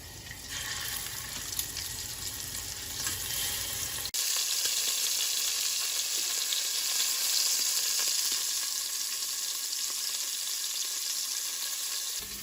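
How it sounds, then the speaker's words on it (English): Pork pieces searing in a hot pan for carnitas, a steady, loud broadband sizzle and crackle that runs throughout without pause, close to the pan, with no talking. "we're gonna go ahead and sear the pork"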